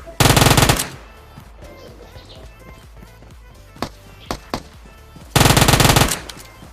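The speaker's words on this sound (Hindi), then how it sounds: "कोई गोली चला रहा था" Automatic gunfire in PUBG Mobile: a loud sustained burst opens, a few sharp single shots crack through the middle, and another long loud burst closes.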